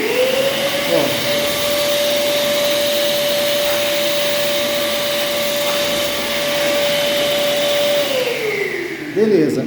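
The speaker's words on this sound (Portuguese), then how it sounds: "Então você tem que só aspirar aquilo ali" A vacuum cleaner sucking up debris from a wooden floor during floor repair, with a loud steady motor roar and a sustained whine that rises at the start and drops away near the end as the machine is switched off.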